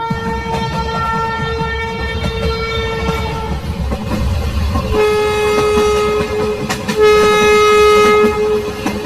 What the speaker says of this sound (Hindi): तभी इन लोगों को ट्रेन की आवाज सुनाई देती है।